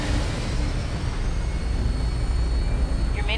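An aircraft in Fallout 4 takes off, a steady, dense roar of engines and rushing air holding at constant loudness throughout, with no voices.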